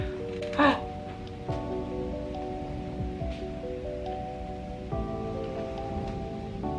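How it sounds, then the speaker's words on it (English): Heavy rain pours down during a windy storm with lightning, making a constant soft hiss beneath sustained tonal sounds and a faint voice. "Literally at the same time there was lightning, and then the rain just started."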